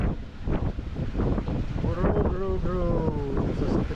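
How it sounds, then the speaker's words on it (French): A heavy squall of wind and rain sweeps over a sailboat leaving Natal, Brazil, roaring steadily and loudly for the whole stretch, with a voice and a few tonal whines rising above the gusts midway. "Là il y a un gros grain qui arrive."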